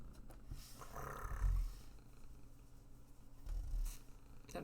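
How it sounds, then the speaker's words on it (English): A contented house cat purring close by in a quiet room, a low rumbling drone with two louder swells, heard alone without talk. "I don't know if you guys can hear her purring."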